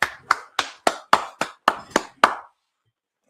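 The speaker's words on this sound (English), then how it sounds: "Go ahead, clap it up." Hands clapping at a Sabbath church service, nine crisp evenly spaced claps in a steady rhythm, close and fairly loud, then stopping into near silence.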